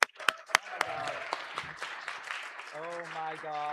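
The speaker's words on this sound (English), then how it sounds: "let's give him a big round of applause today" Audience applause greets an author and performer introduced at a hacker conference, with a few sharp claps rising into a steady wash of clapping, then a voice speaking over the fading applause.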